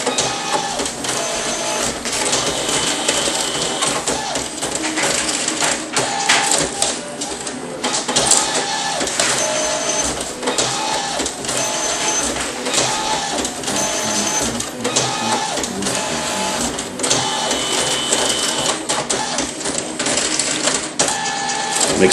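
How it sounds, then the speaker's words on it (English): An ALPS printer lays down wax-based colour over white for decals, a busy mechanical chatter of rapid clicks and whirring passes repeating steadily and close throughout. "Just printing the color on top of the white now."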